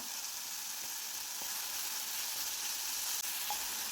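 Onions sautéing in a pan with a teaspoon of salt for a Kerala dried-shrimp curry, giving a steady, soft, even sizzling hiss throughout with a faint stir or two.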